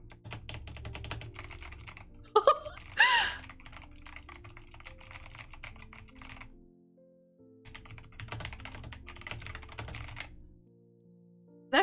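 A compact computer keyboard without a numpad clatters under quick, continuous typing, dense runs of close key clicks broken by a short pause and a few louder knocks.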